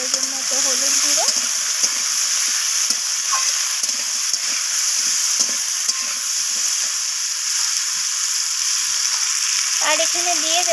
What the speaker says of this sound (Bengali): সব কিছু এইভাবে নাড়াচাড়া করে ভেজে নিচ্ছি।